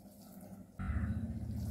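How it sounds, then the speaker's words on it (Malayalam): Water is poured into a fish-fry batter for anchovies and stirred in, giving a soft, quiet splash and slosh that starts suddenly partway through. "കുറേച്ചെ കുറേച്ചെ നിങ്ങൾ വെള്ളം ചേർത്ത് മിക്സ് ചെയ്തെടുത്താൽ മതി"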